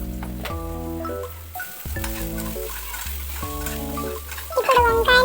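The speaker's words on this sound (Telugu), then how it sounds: "ఇప్పుడు వంకాయలను వేగనివ్వాలి" Chopped brinjals frying in a pan, heard as a loud close sizzle with stirring scrapes, partly covered by tonal background music.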